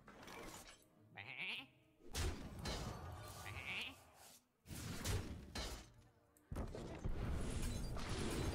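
Sheep bleating in the card game Hearthstone, a couple of short nasal bleats mixed into busy game effects with shattering and whooshing sounds.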